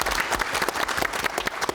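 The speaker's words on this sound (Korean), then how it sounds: "박수 한번 주세요." Quick burst of audience applause at a televised cultural forum in Busan, with dense, close hand claps over a short span.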